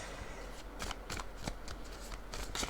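Tarot cards handled and laid down to cover a spread, giving several quick papery slaps and shuffling flicks, close and fairly soft, with no talking.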